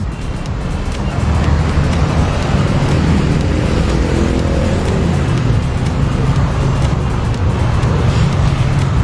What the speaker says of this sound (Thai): รถค่อนข้างติด